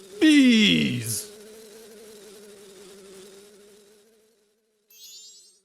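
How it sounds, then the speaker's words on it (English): Bees buzz in Majora's Mask, a sharp descending game sound effect giving way to a steady low insect drone that fades out, then a brief faint chirp. "Bees!"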